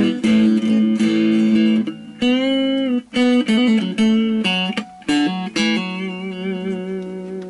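A Yamaha Pacifica electric guitar is played on its neck pickup, giving clear melodic single notes and chords. The phrases ring loud and close with a few short gaps, and a long sustained note closes the passage, all without speech.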